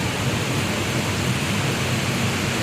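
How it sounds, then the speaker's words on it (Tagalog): Heavy rain pours steadily over a beach area, a dense, unbroken hiss filling the whole moment, with no voices. "Kapal ang ulan, oh."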